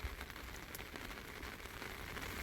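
Heavy rain pours steadily at a fishing spot near Kizilcahamam, a dense, even hiss of drops drumming on surfaces with no pauses and no voices.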